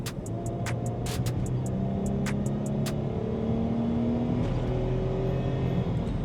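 A Mercedes-Benz ML350 accelerates under throttle, a steady engine drone with rising harmonic tones holding loud and continuous for about six seconds, with faint ticking clicks near the start.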